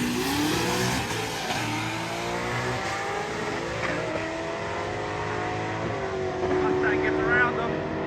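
A Mustang hot rod drag racing at Drag Week, its engine roaring loud and sustained with rising revs throughout, mixed with other cars and a voice talking over it.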